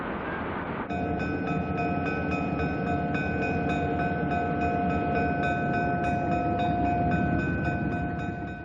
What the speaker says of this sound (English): The train is broken apart.